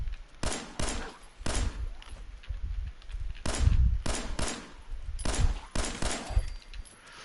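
Bursts of gunfire in Fallout 4 as a Protectron robot is shot: several loud clusters of rapid shots separated by short pauses, with no talking.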